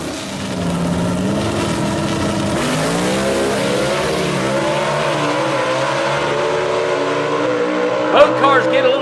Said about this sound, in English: race engines right here on the line as they get ready to go to battle